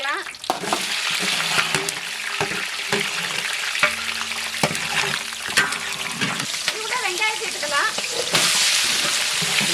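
Semolina (rava) sautés in hot ghee, with a steady sizzle and frequent scraping stirs in the pan. Faint voices and other kitchen sounds sit in the background.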